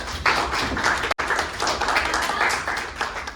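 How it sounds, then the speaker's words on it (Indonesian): A classroom of students applauds a classmate named Azal during a lesson. The clapping is close, brisk and dense, with a momentary break near the middle before it continues. "tepuk tangan untuk Azal"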